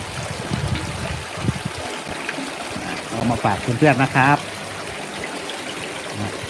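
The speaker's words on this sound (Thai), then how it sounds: "ผมแนะนำเลยว่า ต้องมี น้ำตกบ้างนะครับ ทำเป็นเล็ก ๆก็ได้ครับ" A small garden waterfall keeps a steady trickling, splashing flow in the background while someone talks over it.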